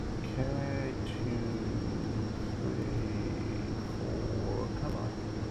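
Steady propeller turbine drone of a Pilatus PC-12 in the X-Plane flight simulator, a continuous even engine hum filling the cabin throughout, with a faint voice underneath.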